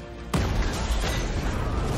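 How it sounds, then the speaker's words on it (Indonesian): A car explodes in an action film: a sudden loud boom bursts in after a brief lower-level scene, then settles into a sustained roaring rumble of fire and debris. "tiba-tiba mobil buat mereka pergi ini meledak"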